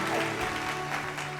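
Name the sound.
audience applause welcoming a guest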